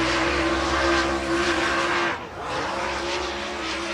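A Lucas Oil MLRA late model race car, number 99, on a qualifying lap at Cedar County Speedway roars loudly and continuously, with a brief throttle lift and blip into a turn before it powers off the exit.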